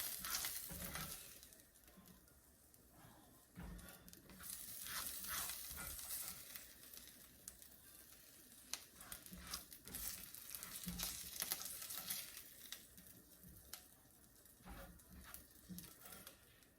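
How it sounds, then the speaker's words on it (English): Chicken sizzles quietly in a Le Creuset skillet while a silicone spatula repeatedly taps and scrapes, chopping the meat into smaller pieces in an uneven rhythm. "I chopped it up into smaller pieces while I had it in the pan, using a silicone spatula"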